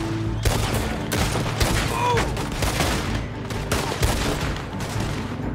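Gunshots in Red Dead Online: a handful of sharp, loud reports spaced irregularly over several seconds, some close together, set against game music and ambience.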